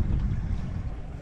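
A Blue Sky Boatworks 360 Angler fishing boat moving on the water, giving a steady close low rumble of hull and water with wind buffeting the microphone.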